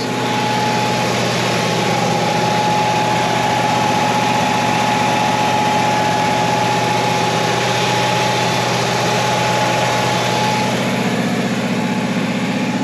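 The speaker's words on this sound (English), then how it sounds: "Look how this engine sounds." A steady 1965 Chevy Malibu SS engine idles close by, a continuous low rumble with a constant hum and no voices.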